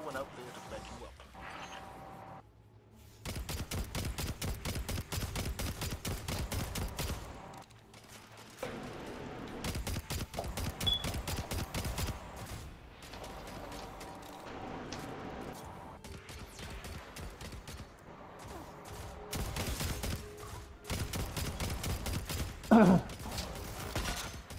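Sky Rifle gunfire in a video game, heard as bursts of rapid clicky shots in several runs separated by brief pauses, with mechanical game sounds and voices talking over much of it.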